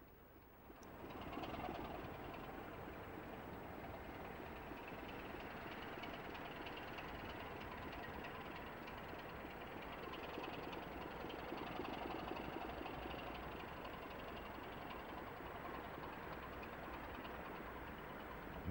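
Class 25 diesel locomotive 25901 hauling a train of oil tank wagons toward Stanlow in 1987, a steady sustained engine drone and rolling rumble heard alone, constant in level throughout.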